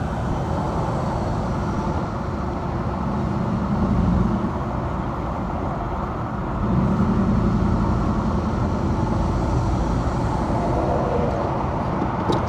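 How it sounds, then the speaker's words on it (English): Road traffic drifts in through an open car window, a steady rumble with passing vehicles swelling louder twice. "I'm open the window just so you guys can hear the traffic."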